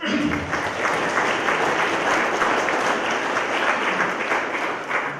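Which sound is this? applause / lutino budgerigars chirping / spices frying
applause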